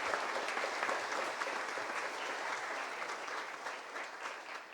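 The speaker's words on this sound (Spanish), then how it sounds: "para todos ellos yo pido un caluroso aplauso porque se merecen todos ellos" Congregation at an Easter Mass applauds warmly in a church, dense sustained clapping filling the space at even volume for several seconds.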